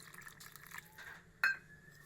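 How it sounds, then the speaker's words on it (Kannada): Water trickles quietly into a thick batter mixed with greens, a soft liquid patter with a single sharp clink of a utensil partway through. "ನೀರು ಹಾಕ್ತಾಯಿದ್ದೀನಿ"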